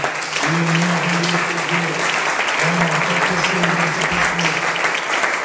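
A church congregation at a seminar applauds in praise, with sustained, dense, steady clapping filling the room and a voice carrying over it throughout.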